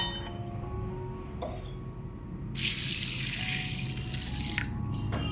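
Water runs from a kitchen tap onto half a cup of chana dal set to soak, a steady splashing stream with a few clinks of a vessel, close and clear with no talk.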